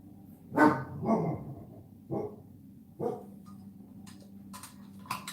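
An indoor dog barks at people in a hallway, giving about four sharp barks spaced over several seconds, moderately loud with no talking, followed by faint clicks.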